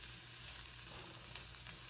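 Garlic and onions fry and brown in a pan, giving a dense, continuous, soft sizzle that stays even throughout.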